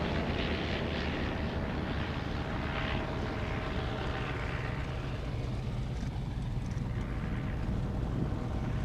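A Shuttleworth triplane flies in an evening air display, its propeller engine a steady broadband drone that stays fairly close, with wind buffeting the microphone throughout.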